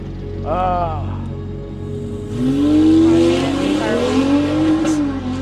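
A drag racing car making a five-second quarter-mile pass: a brief voice comes first, then a loud engine roar rises in pitch and builds as the car accelerates, holding strong to the end.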